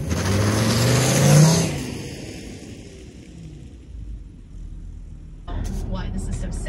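A car engine revs hard with a rising roar that peaks and then fades to a lower idle, followed later by another loud surge. Someone talks over it.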